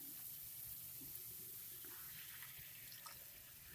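Water is poured into a pan while cooking raw papaya semai, a faint, soft splashing trickle heard close up against a quiet kitchen background, with no talking.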